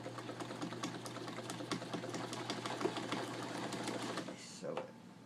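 A sewing machine runs steadily, stitching a homemade car gear shift boot corner to corner, with a continuous hum and rapid needle clatter for most of the stretch before slowing near the end.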